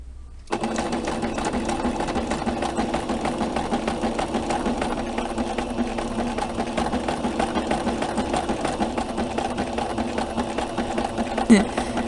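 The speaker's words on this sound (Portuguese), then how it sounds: "aí tu vai baixar o pé da máquina e continua costurando" A domestic sewing machine runs steadily, stitching fabric with its needle lowered, a continuous close mechanical whir with a rapid rhythmic pulse lasting about eleven seconds after a brief quiet start.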